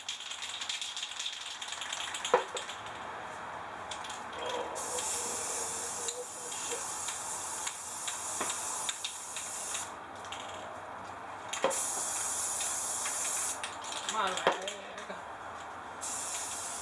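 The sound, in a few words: spray paint can spraying into water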